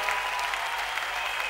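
Church congregation clapping together during a worship service, a steady wash of many hands at moderate distance, fairly soft, with no talk over it.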